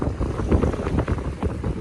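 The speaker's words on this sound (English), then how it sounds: "It's too windy." Wind roars steadily across the microphone, a broad gusty rumble with no pauses and no voices.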